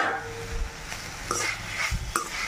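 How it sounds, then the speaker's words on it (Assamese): An egg frying in a pan with sautéed greens, a soft sizzle punctuated by a few spatula scrapes and stirring knocks at close range. "এয়া কণীটো ভাজি লৈছো"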